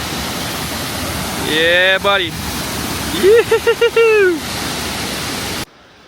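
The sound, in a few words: waterfall, Robinson's Falls in Cameron Highlands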